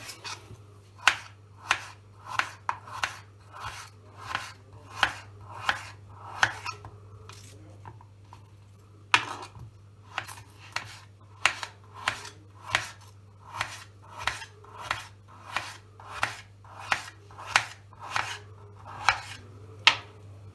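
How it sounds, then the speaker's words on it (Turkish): A knife chops potatoes steadily on a cutting board, a long run of evenly spaced sharp knocks with a brief pause partway, over a low hum. "Patatesimi doğradım."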